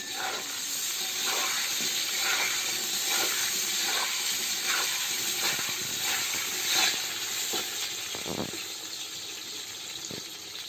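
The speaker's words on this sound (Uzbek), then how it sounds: "Qizartirib qovurib olamiz." Potato pieces frying in hot oil in a pan, a loud steady sizzle and hiss up close, broken by repeated scraping stirs and a few sharper crackles, with no one talking.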